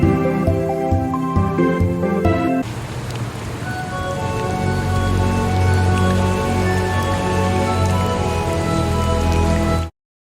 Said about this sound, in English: It will provide you with a variety of natural rain ambiances and raindrop sound effects.